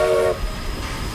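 A train in the video game Forza Horizon 4 sounds a short, loud horn blast that cuts off quickly, leaving a low rolling rumble of the train.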